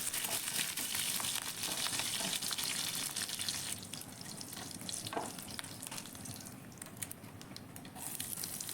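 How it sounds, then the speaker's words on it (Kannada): Mustard seeds, cumin and curry leaves frying in hot oil for a Kannada avarekalu palya, a steady broadband sizzle and crackle that is loud at first and eases slightly midway, with no talking. "ಸ್ವಲ್ಪ ಎಣ್ಣೆ ಕಾದ ನಂತರ ಇದಕ್ಕೆ ಸ್ವಲ್ಪ ಸಾಸಿವೆ ಜೀರಿಗೆ ಮತ್ತು ಕರಿಬೇವು ಹಾಕ್ಕೊಂಡು ನೀಟಾಗಿ ಫ್ರೈ ಮಾಡ್ಕೋತಾ ಇದ್ದೀನಿ"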